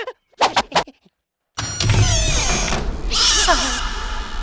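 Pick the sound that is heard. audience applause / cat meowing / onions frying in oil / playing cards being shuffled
cat meowing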